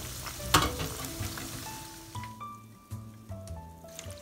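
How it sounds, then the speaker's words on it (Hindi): Batches of fish tikka fry in hot oil, a soft steady sizzle with a sharp splattering crackle near the start, faint and close, with a few light clinks over it. "दूसरा बैच इसमें शामिल कर लेते हैं और फ्राई करने के लिए"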